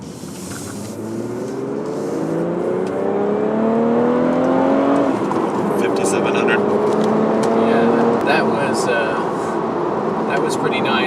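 A 2016 BMW 340i accelerates hard in a speed test, its engine note rising steadily in pitch with a gear change around midway, then climbing again, loud and continuous from inside the car.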